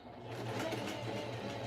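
A sewing machine stitches fabric in a steady, close mechanical whir with a low motor hum, running continuously throughout with no talk.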